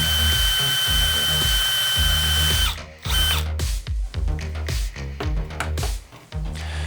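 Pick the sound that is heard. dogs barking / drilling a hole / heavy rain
drilling a hole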